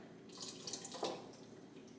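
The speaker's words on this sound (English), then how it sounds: "we're gonna thin it with a little bit of water" Water is poured into a very thick creamy vegan mushroom barley soup to thin it, making a soft, close trickling and splashing that runs for a couple of seconds, with no talking.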